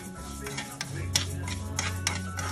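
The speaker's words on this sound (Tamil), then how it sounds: "கிளறிக்கிட்டே இருக்கணும்" A spoon scrapes and stirs dry mung beans roasting in a pan in repeated sweeps, with a low steady hum underneath and no talking.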